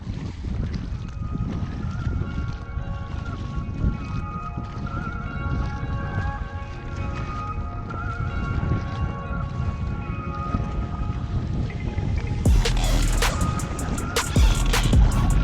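A boat engine drones steadily amid gusting wind noise on Lac d'Orient during carp fishing, with a louder clattering burst near the end.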